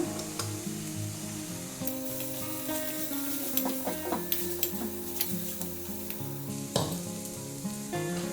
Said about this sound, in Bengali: মশলা ধোয়া জলটা দিয়ে দিচ্ছি এটা তেল ছাড়া পর্যন্ত এটা কষে নিতে হবে